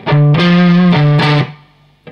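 A short distorted electric guitar riff, a few sustained, gritty notes played loud and alone, then fading out.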